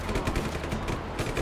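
Rapid, dense booming blasts fill the clip, a loud burst of repeated heavy tank cannon fire in a video game with no pauses.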